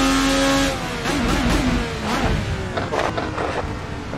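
An IndyCar race car engine, tuned to about 1000 horsepower, screams loudly and continuously as the car accelerates hard down a back straight, with rising and shifting engine pitch and steady roaring buildup throughout, no talking.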